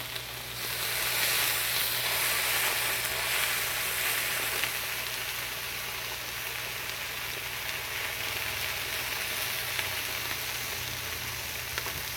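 The sides of a Texas-style steak sear in a hot pan with a steady, dense sizzle and crackle, close and even throughout, with a low hum underneath and no talk.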